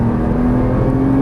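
A Nissan GT-R accelerating on a race track, with a loud, steady engine drone at close range from inside the car. The clip is brief and has no talk.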